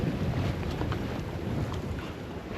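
A sailboat under mainsail on a starboard tack, broad reach, rushing along steadily through the water with constant wind buffeting the microphone and a dense wash of water noise throughout.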